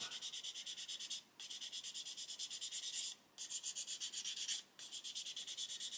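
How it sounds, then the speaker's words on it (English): Rhythmic back-and-forth sanding of a plastic part from a 1/35 Ju87 G Stuka scale model kit, quick steady strokes broken by two brief pauses, close and fairly quiet with no talking. "I just want to sand that nice and flat."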